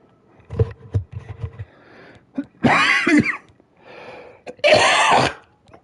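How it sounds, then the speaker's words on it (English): A man coughs and clears his throat several times at close range, with harsh bursts and short quiet gaps between them. "I don't know why I just started coughing as soon as it's time for me to do this"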